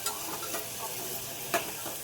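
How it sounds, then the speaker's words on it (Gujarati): Tempering spices sizzle and crackle in hot oil for a vegetable curry, a steady close frying hiss with a few sharper pops, and no voices. "આ બાજુ જો વઘાર કરે છે"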